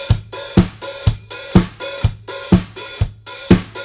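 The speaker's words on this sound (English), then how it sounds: "I'm just lifting up my toe just ever so slightly to allow the hats to come apart" Drum kit hi-hat worked by the foot pedal, the cymbals parting slightly to sizzle then closing, giving eight sharp, evenly spaced strokes with ringing tails, loud and close with no talk.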